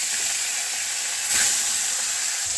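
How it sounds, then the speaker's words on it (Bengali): Fish pieces fry in hot oil, giving a loud, continuous close-up sizzle with a brief surge of hiss partway through and no voices. "এই গরম তেলে আমি মাছ ভাজাগুলো ছেড়ে নেবো, মাছগুলো ভেজে নেবো"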